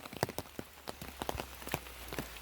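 Rain falls on a mountain road where a vehicle sits parked, heard as scattered close drops tapping a hard surface over a faint steady background hiss, with no talking.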